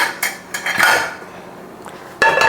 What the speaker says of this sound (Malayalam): അപ്പോഴത്തേക്ക് കുക്കർ അടുപ്പത്ത് വെച്ച് ചൂടാവാനായിട്ട് വയ്ക്കാം